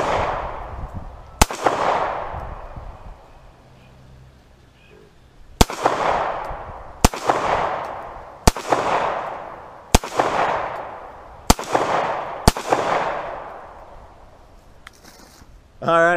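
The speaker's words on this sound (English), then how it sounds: "let's step it up to the 9mm. I'm gonna go ahead and try hit the side of the sofa" A 9mm handgun fired at the side of a sofa, seven sharp loud shots with a pause after the first and then roughly one per second, each ringing into a long echoing decay outdoors.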